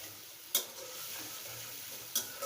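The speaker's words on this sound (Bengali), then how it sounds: "দিয়ে মশলাটাকে ভালোভাবে কষিয়ে নেব।" Ginger-garlic paste, cumin paste and green chillies sauté in a pan with a soft, steady sizzle, and two sharp utensil clicks stand out against it.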